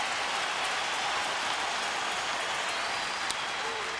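A baseball crowd at Minute Maid Park stands and applauds Andy Pettitte with dense, steady clapping and cheering. The sound is a continuous roar, heard from a distance.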